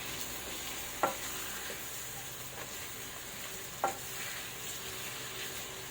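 Pieces of pork stir-frying in a pan give off a steady, fairly quiet sizzle, while a utensil scrapes and clacks against the metal twice, with a softer knock between.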